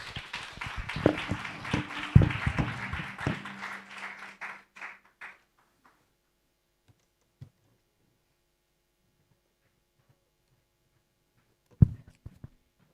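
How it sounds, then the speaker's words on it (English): A burst of clapping from a group fades out after a few seconds, leaving near silence with a couple of isolated knocks. "Let's give it up again, a thunderous round of applause."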